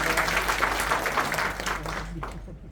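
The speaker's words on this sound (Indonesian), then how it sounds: "Kasih tepuk tangan dulu buat Tuhan." A church congregation claps for God during a sermon, a full burst of many hands with a low hum underneath that thins and dies away near the end.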